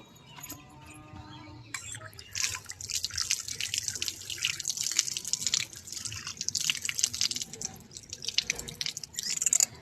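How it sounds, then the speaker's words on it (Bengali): Hands are washed under a running tap, water splashing and dripping steadily into a sink, close and fairly loud, after a brief quieter moment at the start. "ফার্স্টে আমি হাতটা ধুয়ে নিই"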